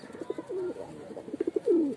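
Close pigeon cooing: a pair of soft, throaty rolling coos with short pulsing notes between them, fairly loud and with no other sound.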